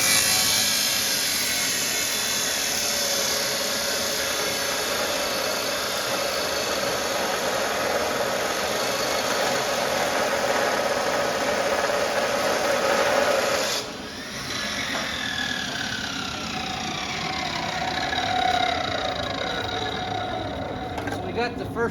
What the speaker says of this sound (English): I'll go ahead and cut these pieces of steel.